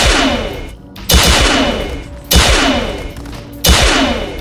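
Gunfire in the Cyberpunk 2077 video game, with three loud, sharp bursts spaced about a second apart, each trailing off into a rumbling decay.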